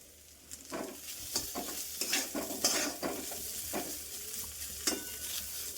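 Grated carrots for halwa fry in a pan and are stirred, with a steady low sizzle under repeated scraping strokes of a spoon. Close and fairly quiet, with no voices.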